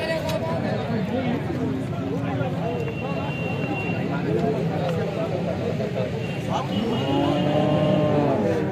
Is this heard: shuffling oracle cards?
no